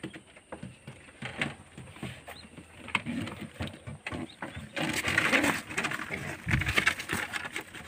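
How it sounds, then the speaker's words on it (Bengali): Pet pigeons flap and scuffle restlessly while being vaccinated, with bursts of close wing flutters and scrabbling that grow busier toward the end, and soft cooing in the background. "পায়রা খুব ছটফট করছে"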